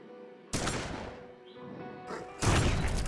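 Loud, sudden bursts of crashing noise in the zombie video game Dead Ahead Zombie Warfare, with one sharp blast and then a second heavier explosion near the end.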